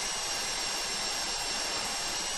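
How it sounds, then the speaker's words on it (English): A drill boring through a vault lock during a GTA V Online heist on PC, a constant high whining grind that runs loud and unbroken throughout with a faint tonal hum. "Be very, very careful about pulling the drill in."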